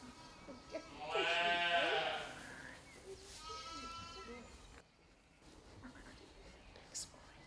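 Sheep on a farm let out two drawn-out, wavering bleats close by, followed by quieter ambient farm sounds.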